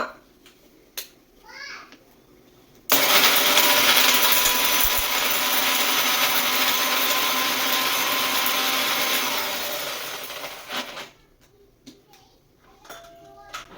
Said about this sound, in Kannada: ಆವಾಗಲೇ ಫ್ರೈ ಮಾಡಿಟ್ಕೊಂಡಿರೋಂತಹ ಮಸಾಲಾನ ಪೇಸ್ಟ್ ಮಾಡ್ಕೊಳ್ತಾ ಇದ್ದೀನಿ.